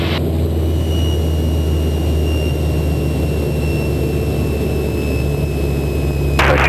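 Light aircraft engine drones steadily and loudly in the cockpit during power reduction, a constant low rumble with faint tonal whines, continuous throughout with no speech.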